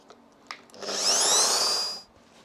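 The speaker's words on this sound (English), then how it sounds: "So I'm just going deep enough up to the shoulder of the drill." Drill boring into wood in a workshop, one steady whining burst of about a second and a half with a brief knock beforehand, close and fairly loud.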